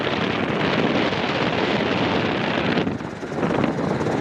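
A Robinson R22 helicopter roars steadily during takeoff, a loud, dense, continuous engine and rotor noise heard from inside the cabin with wind buffeting, dipping briefly near the end.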